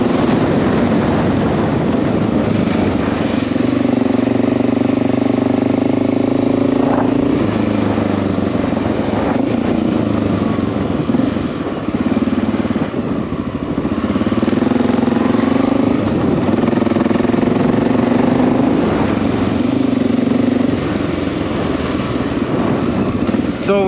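A Honda XR650L single-cylinder motorcycle engine idles after a valve adjustment, a steady close thumping rumble with slight rises and dips in pitch, and a voice speaks briefly over it.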